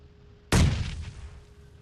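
A single loud gunshot from the video game PUBG Mobile cracks out after a quiet moment and dies away in a short booming echo.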